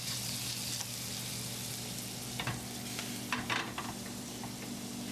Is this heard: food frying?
yes